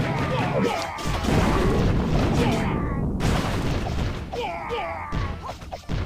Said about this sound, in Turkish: O dev bomba nasıl patladı benim içimde?